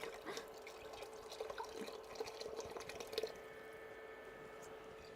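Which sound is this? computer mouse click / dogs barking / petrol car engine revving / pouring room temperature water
pouring room temperature water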